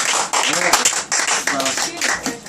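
Bursts of hand clapping from a small group at a casual music session, choppy and close, mixed with overlapping talk and laughter.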